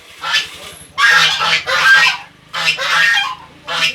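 Muscovy ducks give loud, raspy honking calls in repeated bursts, several close cries separated by short pauses, with no voices over them.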